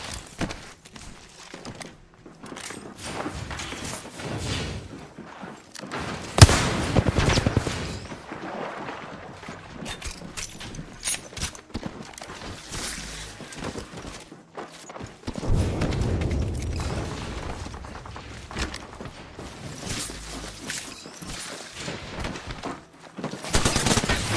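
Gunfire in the battle royale game Apex Legends, loud bursts of shots and impacts arriving in clusters across a busy firefight, with footsteps and scuffling between volleys.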